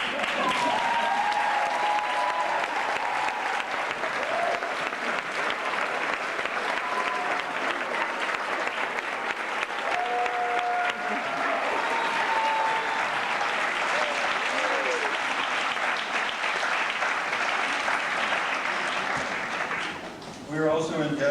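A graduation audience applauds students' families in one long, loud, continuous burst, with scattered voices and whoops mixed into the clapping before it thins out at the very end.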